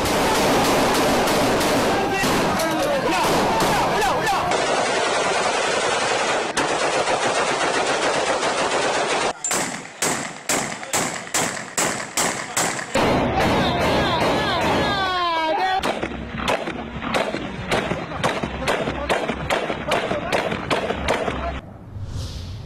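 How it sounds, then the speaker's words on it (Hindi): Celebratory aerial gunfire crackles over a city at night: long sustained bursts of automatic fire, then rapid separate shots, dense and continuous. A voice speaks briefly amid the loud, echoing volleys. "ये हवाई फायरिंग का समा जो है वो पूरी कौम में देखने में आया रात को 9:30 बजे के बाद से"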